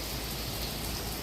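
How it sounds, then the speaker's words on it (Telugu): Heavy monsoon rain pours down in a dense, unbroken hiss that stays steady and close throughout the brief stretch, with no voices over it. "వర్షం పడుతుంది. ఈ వర్షాకాలంలో ఇంత హెవీ రెయిన్ పడడం ఇదే ఫస్ట్ టైం"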